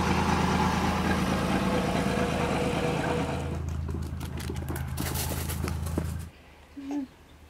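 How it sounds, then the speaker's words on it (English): A tractor drives past close by, its loud rumbling engine droning steadily, then fading as it moves off and cuts out, leaving quieter ambience. "I think the local tractor's coming by."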